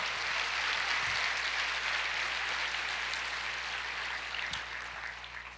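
A church congregation applauds at a worship service, a steady wash of many hands clapping that holds loud for several seconds and then tapers slightly toward the end.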